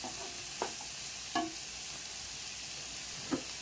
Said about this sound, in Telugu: ఇవన్నీ మిక్స్ చేసేసి కొద్దిగా సాల్ట్ వేసి మీడియం ఫ్లేమ్లో ఫ్రై అవనిద్దాము